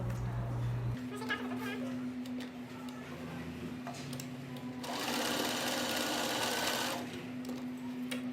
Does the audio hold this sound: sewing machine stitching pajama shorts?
yes